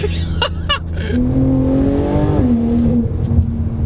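A Porsche 992 Turbo S pulls hard under acceleration, its loud combustion engine note climbing steadily in pitch through a gear, then dropping and rising again close by, with brief voices over the start.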